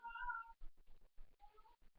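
A house cat meowing nearby, one drawn-out clear meow followed by softer, broken mewing calls, loud and alone with no talk over it.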